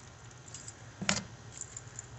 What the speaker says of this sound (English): Car keys to the rescue.